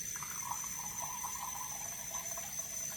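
Water poured steadily into sourdough bread dough while mixing, a continuous soft splashing trickle with a faint steady tone running throughout.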